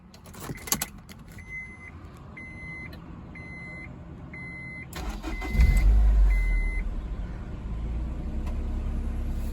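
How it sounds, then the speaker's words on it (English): A Honda S2000 sports car is started: a chime and several repeating warning beeps come first, then the engine cranks and catches about midway, settling into a steady, close idle rumble. "All right, I'm gonna start the car up."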